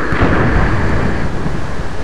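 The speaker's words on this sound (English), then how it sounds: "Or maybe it's just a storm." Thunderstorm in the Minecraft video game: a steady, loud roar of rain with rumbling thunder filling the whole stretch, no voices over it.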